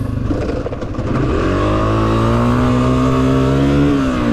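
A Honda CRF250F dirt bike in a hare scramble with a shifting fault, its engine droning loud and close, then rising steadily in pitch as it revs and builds speed, alone without talk.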